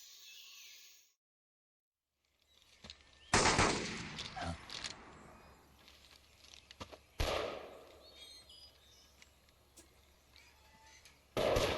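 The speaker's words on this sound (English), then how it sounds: "let's head towards the sound of gunshots" Gunfire in the video game Metal Gear Solid 3, with sharp bursts and volleys of shots at intervals among ambient game sound, moderately loud with quiet gaps between them.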